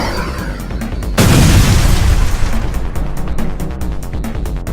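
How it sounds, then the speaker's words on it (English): A rocket strikes the docks in a massive explosion, a sudden deep boom that erupts after a second of rumbling noise and rolls on as a loud, dense roar with faint rhythmic ticking layered over the tail. "fires the rocket directly into the docks, causing a massive explosion and a dense mushroom cloud of pure darkness"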